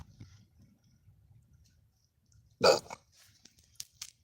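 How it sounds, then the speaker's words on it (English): A single short, fairly loud belch bursts out close by in the middle of a quiet stretch with faint low murmuring, followed by a few small clicks. "Oh, sorry about belching."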